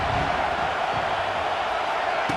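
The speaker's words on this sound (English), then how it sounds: "This crowd bringing an ear-splitting welcome to their visitors." Stadium crowd roaring in EA Sports College Football 26, a steady, dense wall of noise that stays loud and unbroken throughout, with no voices standing out above it.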